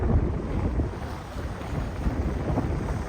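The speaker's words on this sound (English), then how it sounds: "It's very windy out here." Gusty wind buffets the microphone with a constant low rumble and rough, uneven blasts, with no voices.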